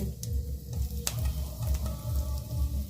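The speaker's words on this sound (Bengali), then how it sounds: "এবারে ওই তেলের মধ্যে আমি দিয়ে দেব পাঁচ ফোড়ন গোটা জিরে এবং হিং" Whole five-spice seeds, cumin and asafoetida sizzle steadily in hot oil, a continuous close frying hiss with small crackles and the odd sharp tick of a spoon stirring the pan.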